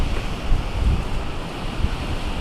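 Strong winds of a storm in Ontario roaring and buffeting the microphone, a dense, continuous rushing noise with low gusty thumps and no pauses.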